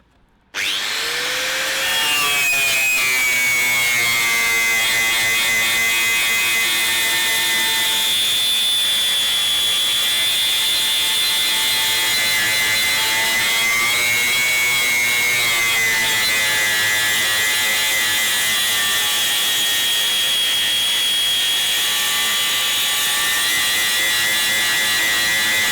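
A wire wheel grinds rust off metal in one loud, continuous whine that holds steady for the whole stretch, with slight pitch dips as pressure on the workpiece changes.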